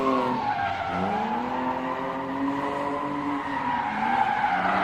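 A drift car left-foot brakes into the second zone of a grassroots drifting qualifying run, tires screeching in a long continuous squeal over steady engine drone, loud and close throughout.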